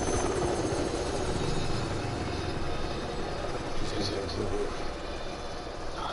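Helicopter in the video game Resident Evil 6, a continuous rotor chop and engine whine at steady loudness throughout, with faint voices underneath.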